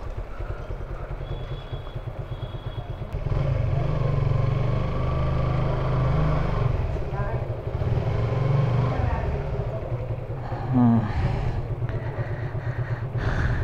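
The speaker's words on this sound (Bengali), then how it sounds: "বাসায় বাইকটা ঢুকে ফেলবো।" A motorcycle is ridden into a house, its close engine rumbling steadily and growing louder partway through, with some talk around it.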